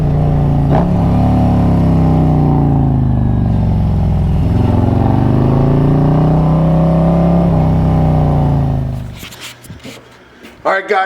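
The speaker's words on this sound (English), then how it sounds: "Bike is sounding absolutely amazing." A Harley-Davidson motorcycle rumbles steadily on the road, its engine note rising and falling as it rides and revs, then drops away near the end, leaving scattered clatter.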